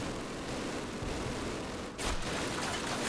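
Dense, continuous gunfire and battle noise from Call of Duty Classic on PS3, a loud, unbroken wash of shots with a sharper burst near the end and no voices.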